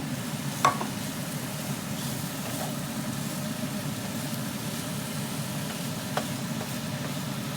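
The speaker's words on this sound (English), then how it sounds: "So I'm going to add in the tomato." Tomato goes into a hot pan with garlic and ginger for pork chops, giving a steady low sizzle and frying hiss throughout, with a couple of brief sharp clinks of stirring.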